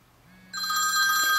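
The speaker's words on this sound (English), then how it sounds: "Now Tony, I'm going to ask you to call me directly over FaceTime if you don't mind" An iPhone 4 ringing with an incoming FaceTime call, a bright electronic ringtone that comes in over a quiet background and holds steady for about a second, with no voices.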